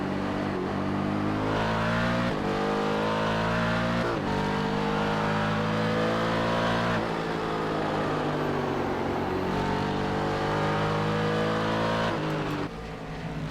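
Race cars accelerating hard through and off the corners at Watkins Glen, several loud engines rising and shifting in pitch together, a continuous close roar across the whole stretch with no talk.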